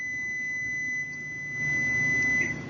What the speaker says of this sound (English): my buzzer's going off